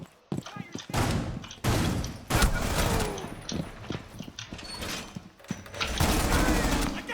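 Bursts of gunfire in Rainbow Six Siege, loud and close, come in several separate volleys with short pauses between them, with someone talking over parts of the shooting.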